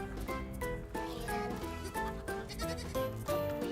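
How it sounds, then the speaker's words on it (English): A baby goat bleats in short wavering cries, several in quick succession over a bed of background music, fairly close and clear. "Why, hello there, baby goat."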